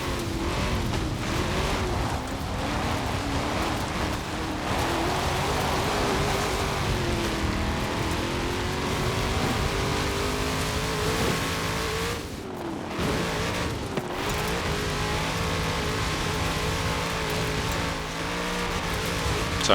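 A stock 2020 Chevrolet C8 Corvette races in Forza Horizon 4, its engine droning and revving continuously with shifting pitch, gear changes and brief dips in power, accompanied by road and tire noise throughout.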